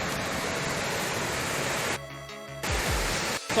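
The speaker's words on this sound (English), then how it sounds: "it's a very angry river. It's very, very angry river, very, very harsh." A river swollen into a flood after Cyclone Idai on the road to Chimanimani roars in a loud, steady, close wash of rushing water, briefly broken midway by a tonal interruption.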